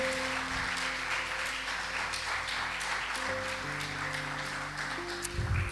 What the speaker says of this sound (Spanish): Dale un aplauso al Señor, se lo merece.